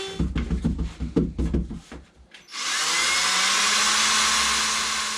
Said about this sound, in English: Using a router with a flush cut bit, we could trim right along the edges.